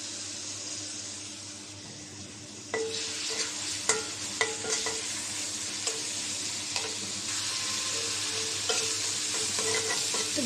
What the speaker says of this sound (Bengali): তেল দিয়ে দিলাম, চিংড়ি মাছটা একটু ভেজে নেব।